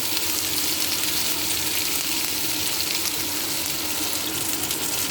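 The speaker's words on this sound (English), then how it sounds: "We have to stir fry until the vegetable is a little softer" Marinated pork and cabbage stir-fry in a pan with a steady, bright, hissing sizzle that holds throughout with no talking.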